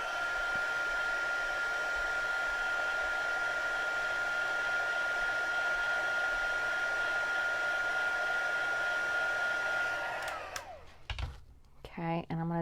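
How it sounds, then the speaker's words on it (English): A heat tool blows steadily and loudly to dry stamping ink on pearlized specialty paper, a continuous whooshing hum with a high whine that cuts off near the end, followed by a few light handling clicks. "I'm going to hit it with the heat tool and just dry it."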